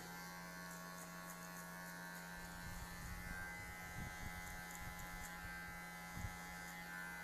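Electric hair clippers fitted with a number 1 guard buzz steadily up close while fading hair in a drop fade, with soft scraping passes through the hair.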